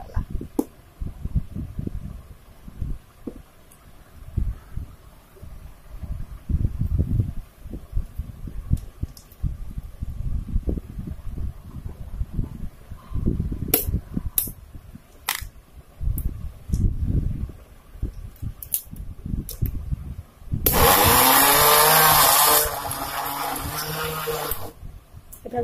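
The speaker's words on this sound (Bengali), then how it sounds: "এখন ব্লেন্ড করে নেওয়ার পালা।" An electric blender with its lid on whirs loudly in one short burst, blending apple and banana into a smoothie. Quieter handling and rustling come before it.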